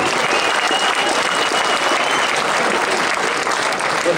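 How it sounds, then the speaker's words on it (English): Sustained audience applause for candidates, panelists and moderators at the close of a late-evening Club 20 political debate, a dense, steady wash of many hands clapping throughout without pause. "Let's do one final round of applause for all the candidates"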